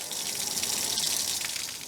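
Water drains from the 6-gallon tank of a Cougar fifth wheel trailer during winterizing, a steady close rushing gush that holds evenly throughout with no talking.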